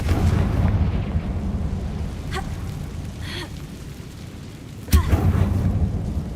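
In Hogwarts Legacy, a Confringo blasting spell sets off a single sharp, loud explosion near the end, over a steady rumbling game ambience with a few faint whooshes before it.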